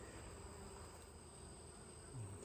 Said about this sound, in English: The bees are busy on this frame.